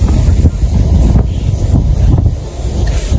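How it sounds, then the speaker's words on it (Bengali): Gusty wind blowing across open fields near a river, buffeting the microphone in loud, low rumbling surges that rise and fall over a few seconds. "সুন্দর বাতাস রয়েছে।"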